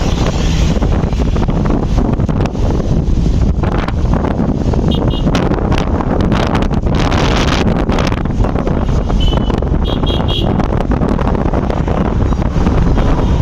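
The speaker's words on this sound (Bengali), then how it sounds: "আমরা বাইকে করে যাচ্ছি।" Steady, loud wind buffeting the microphone while riding a motorbike on a road out toward fields of kash flowers, a continuous roar that fills the whole clip with no clear speech on top.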